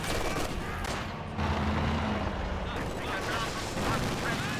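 Machine gun fire with incendiary rounds in a war video game at a center building, dense rattling bursts and booming battle noise, with a voice talking over it.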